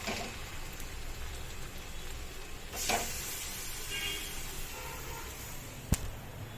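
Marinated chicken goes into a pan of fried onions, raising a continuous rain-like sizzle with a burst as it lands and a sharp utensil clink near the end; no voices.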